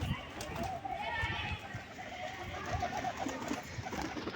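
Pigeons coo in soft, low throaty calls close by, with a flutter of wings and a voice talking over them.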